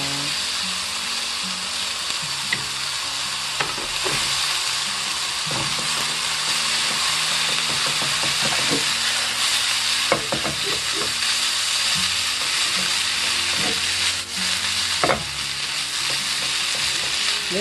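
Bracken fern stir-fried over medium heat in a pan, a steady loud sizzle and hiss with repeated scraping and clattering stir strokes throughout, no talking.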